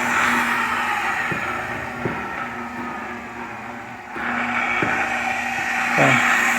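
An electric motor drives a slowly turning bead roller with a steady, close mechanical hum, broken by a few faint clicks and knocks.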